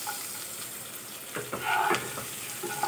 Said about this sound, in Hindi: लहसुन को थोड़ा सा सेंक लें कुछ ही सेकेंड।